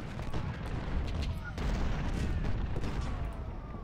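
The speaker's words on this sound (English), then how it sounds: "I'm taking artillery fire and I don't want that to last." Artillery fire in the Civil War strategy game Ultimate General Civil War, a battle at Brock Road and the Mule Shoe, with overlapping booms and crackling volleys thundering steadily under a murmur of voice.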